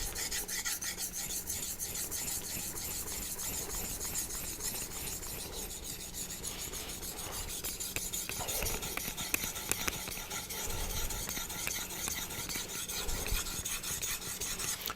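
A convex knife edge being ground on a Naniwa diamond whetstone, continuous close rasping strokes in a steady back-and-forth rhythm with no pauses.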